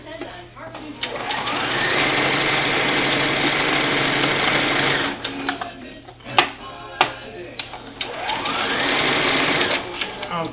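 A sewing machine stitches elastic onto doll bloomers, running in two steady mechanical bursts separated by a pause filled with a few sharp clicks and handling sounds.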